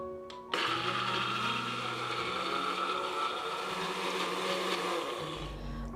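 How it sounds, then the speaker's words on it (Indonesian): A blender starts abruptly and whirs loudly and steadily, its motor pitch shifting slightly as it grinds a thick spice paste, then cuts off. "Kemudian kita blender hingga bumbunya halus."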